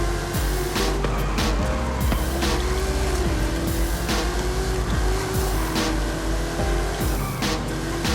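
A muscle car in Forza Horizon 5 roars steadily with a loud, droning engine, shifting pitch as it drives, with repeated tire squeals cutting through throughout.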